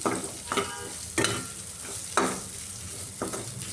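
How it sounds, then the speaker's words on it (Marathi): Potatoes and fenugreek leaves sizzle in a pan, stirred in four or five distinct scraping sweeps over a low steady frying hiss. "त्याला असं मिक्स करून आपण"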